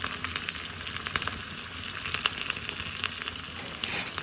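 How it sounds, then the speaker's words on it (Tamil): Garlic, curry leaves and asafoetida sautéing in hot oil for a drumstick, mango and brinjal sambar, a steady close sizzle with small crackling pops and no talking. "போட்டு நல்லா வதங்கணும்."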